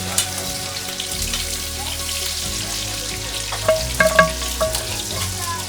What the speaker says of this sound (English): Here we go in with our onions and our locust beans